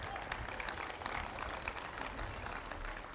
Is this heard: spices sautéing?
no